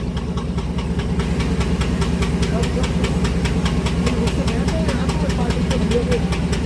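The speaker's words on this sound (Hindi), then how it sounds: "और उसका साउंड सुनिएगा एक बार आप, डीजल इंजन का।" The diesel locomotive hauling the Magadh Express runs loud and close, with a heavy chugging throb and rhythmic knocking pulses over a constant low engine roar that holds steady throughout.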